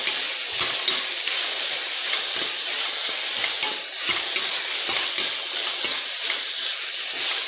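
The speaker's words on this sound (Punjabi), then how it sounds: "ਆਪਣੇ ਪਿਆਜ਼ ਭੁੱਜ ਗਏ ਹੁਣ ਆਪਾਂ ਟਮਾਟਰ ਪਾਵਾਂਗੇ" Onions frying in oil in a pan while being stirred, a steady close sizzle with repeated scraping strokes throughout, for a Punjabi dry ridge gourd (tinda) dish.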